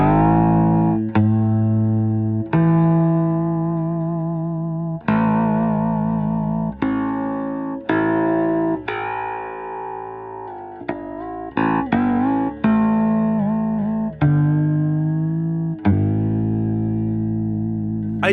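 Bass guitar strings played one after another through effects, each plucked note ringing out with reverb and chorus-like shimmer, about a dozen distinct attacks over a steady sustained tone, close and clear with no talking.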